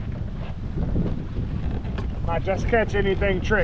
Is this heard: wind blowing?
yes